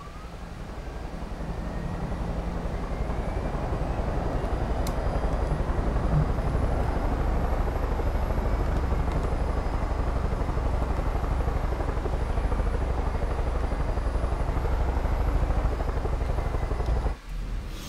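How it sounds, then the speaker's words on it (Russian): A helicopter in the video game Far Cry 5 thrums with a steady, loud, close rotor chop that holds constant, then briefly cuts out near the end. "Идем на вертолет полетим"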